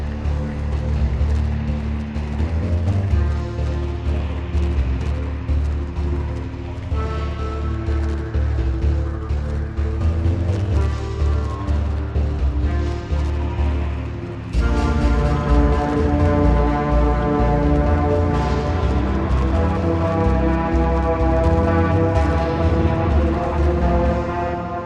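Atmospheric synth pad from a Native Instruments sample library, sustained chords layered over crunchy low bass, with a fuller, brighter section entering midway and holding steadily to the end.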